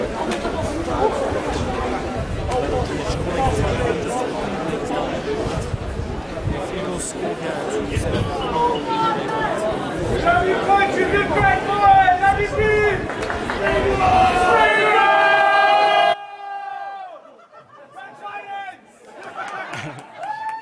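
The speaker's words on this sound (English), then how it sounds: "You can hear them cheering on their coach here in this final." Supporters cheering their head coach at a rugby final between Vitoria Sport Clube and OJ Eagles, a loud crowd roar with babble and shouting. It swells toward the end, then falls to scattered calls and whistles.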